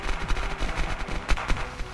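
Rapid gunfire from the new SMG in the Unturned video game, a fast burst of loud, sharp shots in a close, dense rhythm with little pause.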